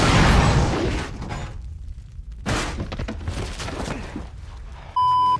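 Nuclear bomb blast in an Indiana Jones film scene, a loud rushing explosion followed by a second roaring burst of debris and rumble, then a short electronic beep tone at the end.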